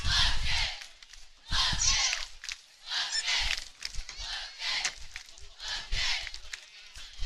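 Spectators at a high school football game roar and shout in loud, surging waves, with a voice talking in and among the crowd noise.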